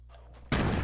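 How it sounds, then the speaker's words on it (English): Grenade explosion in Fortnite, a single sudden loud blast that cuts in after a quiet moment and rings out broadly. "Hey, grenade. That was me."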